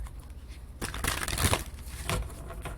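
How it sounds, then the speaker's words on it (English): A deck of tarot cards is shuffled close up, giving a few quick papery riffles and rustling bursts. "And I am shuffling again."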